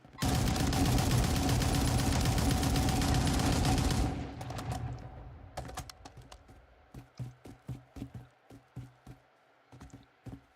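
Video game gunfire: a dense burst of continuous automatic fire fills the first four seconds, then gives way to a string of separate sharp shots and clicky taps, evenly spaced and moderately loud, with no voices.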